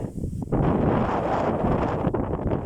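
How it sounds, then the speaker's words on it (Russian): Strong wind roars across an open field, buffeting the microphone in a loud, continuous rush with bending trees rustling beneath it. "Деревья прям пригибаются от такого ветра."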